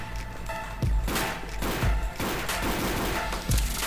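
Gunfire from a scoped gun in the shooter game Codename Cure: a few heavy, booming shots with rolling echoes spaced through a steady, busy game soundscape, with no talking.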